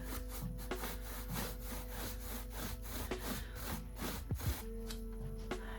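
TLP Zeus being rubbed onto textured leather produces a rhythmic scraping and rubbing, repeated back-and-forth strokes, quiet and close, with a steady low hum beneath.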